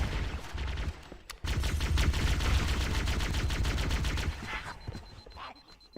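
Rapid pistol fire in Halo: Combat Evolved, shots chaining in a dense, echoing volley for several seconds before thinning to a few scattered reports, close and loud with no voices.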